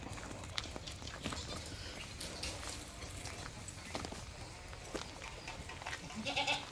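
A healthy goat of about 40 kg among livestock for sale bleats briefly near the end, after scattered hoof and handling clatter, with faint background sounds throughout.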